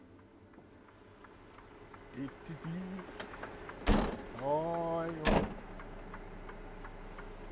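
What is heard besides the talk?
doors malfunctioning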